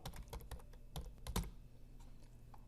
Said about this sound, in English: I start typing in cell A1